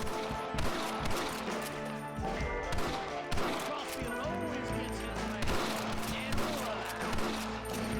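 Scattered gunshots and bursts of rifle fire during a shootout in Red Dead Redemption, irregular cracks and thuds over a busy backdrop while someone talks.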